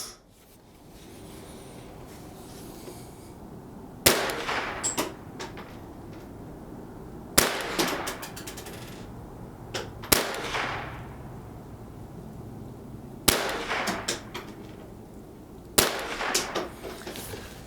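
A Winchester Wildcat semi-auto .22 rifle firing 22 long rifle rounds outdoors: five sharp, loud cracks spaced a few seconds apart, each with a short ringing tail, over quiet background.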